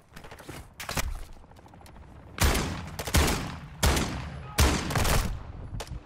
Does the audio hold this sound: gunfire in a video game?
yes